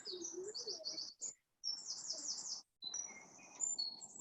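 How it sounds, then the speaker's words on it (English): Small birds tweet and chirp in high, quick bursts, with brief pauses between phrases and faint insect-like buzzing beneath. "The little birds tweeting and whistling in the background"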